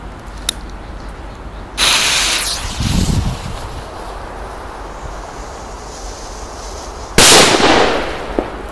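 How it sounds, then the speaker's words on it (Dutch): Triplex Mad Bulldog 5g firecrackers go off outdoors in two sharp, loud bangs several seconds apart, with a faint pop early on and quiet background between blasts. "Dan gaan we eens even uittesten hoe die knallen."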